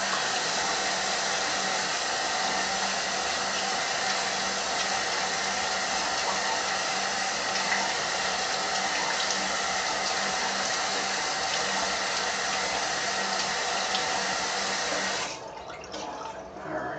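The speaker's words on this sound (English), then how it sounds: "I'm just going to rinse with some cold water" A tap runs cold water steadily to rinse out a shaving bowl, a constant close splashing rush that ends just before the end.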